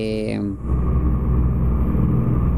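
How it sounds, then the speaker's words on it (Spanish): An Iveco Hi-Way truck engine in Euro Truck Simulator 2 settles into a steady, loud, deep droning rumble after a brief tonal sound at the start. "Este es el sonido de Iveco original"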